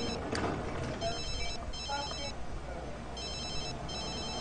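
Telephone ringing in The Sims 3 during a house move, sounding as repeated bursts of an electronic trill with short gaps, over steady game background sound and music.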